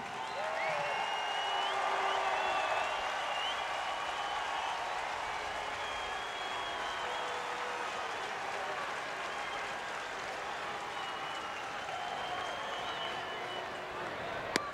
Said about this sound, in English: Nice ovation.